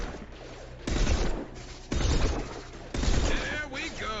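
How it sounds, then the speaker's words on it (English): Three heavy, booming single shots from a high-impact weapon in Mass Effect 2, evenly spaced about a second apart, with combat chatter and electronic effects in between. "a high-impact shot"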